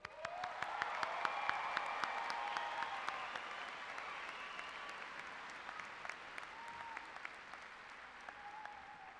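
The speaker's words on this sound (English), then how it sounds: "Round of applause." Sustained applause from a large audience at the Oregon City High School Class of 2013 graduation ceremony, dense clapping that swells early and holds steady, with a voice carrying faintly over it.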